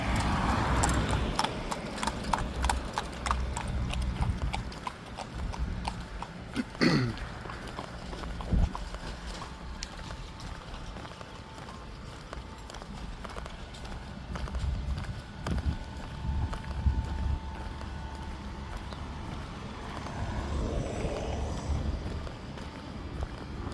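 Horse hooves clip-clop at a steady trot along a street in Cuba, mixed with traffic and general street noise, and a passing vehicle whooshes by partway through.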